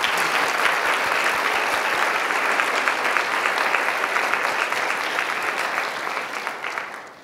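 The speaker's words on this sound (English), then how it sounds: "we'd love to give you a round of applause" A conference audience at the WiDS Datathon 2020 event applauds the Datathon team, a steady round of clapping that gradually fades out.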